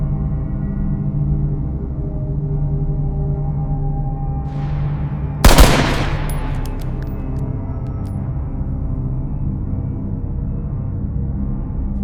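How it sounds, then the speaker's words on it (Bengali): A single sharp gunshot effect from a Bengali detective thriller audio drama cracks out loud and close, preceded by a brief rising whoosh, over a steady low music bed. "অনির্বাণ গুলি চালালো।"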